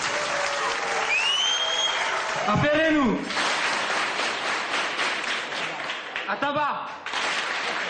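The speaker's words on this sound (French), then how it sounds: "on peut l'applaudir." An audience at a school gathering in Antsirabe applauds warmly and steadily, with voices calling out and chanting over the clapping and a brief lull partway through.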